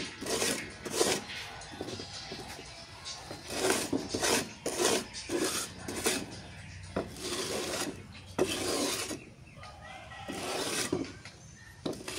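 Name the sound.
sharpening a sickle using clay soil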